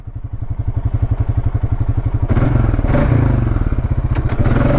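A 2020 Honda Rancher 4x4 ATV engine pulls away from a stop with a close, steady pulsing thrum that rises in pace and grows slightly rougher as it accelerates.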